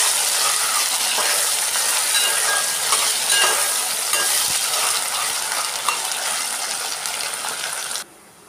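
A spoon stirs and mixes ingredients in a hot frying pan, giving a steady bright sizzle with scraping clinks, close and continuous, stopping abruptly near the end.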